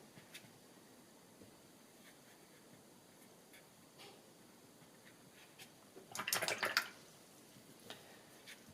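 A watercolour paintbrush swishes and knocks in a water jar while it is rinsed, a brief close burst of splashing after quiet, faint taps and rustles.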